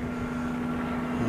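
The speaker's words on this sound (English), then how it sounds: "this helicopter's been flying over for 20 years" A helicopter flies overhead, its steady engine and rotor drone holding level and fairly loud throughout the short stretch, with no talking.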